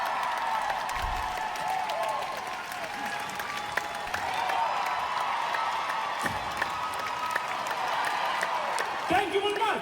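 Concert crowd at a show in London applauds and cheers, with sustained clapping and some shouts and whoops under a layer of talk.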